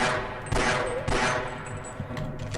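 Bursts of gunfire from the first-person shooter Half-Life, two loud volleys close together followed by a scatter of fainter shots, with no talking.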